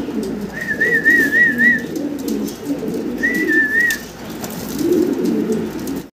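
Domestic pigeons kept for sale at a vendor's coop give low, soft coos in repeated rolling phrases. Thin higher whistling calls sound twice over them, with no talking.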